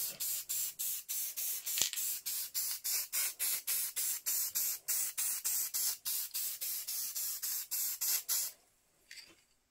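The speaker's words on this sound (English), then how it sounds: "spray above from this angle, lightly" A spray can hisses in quick repeated short bursts, close up and fairly steady in rhythm, ending with a couple of softer puffs.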